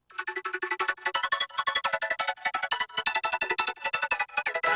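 A synth channel processed with an LFO tool plays a bright, stepping melodic line chopped into rapid rhythmic pulses, each note gated into fast stuttering bursts, moderately loud with no talking.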